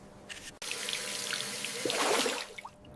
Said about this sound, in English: Cold water on your face.